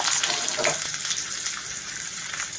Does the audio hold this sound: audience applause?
no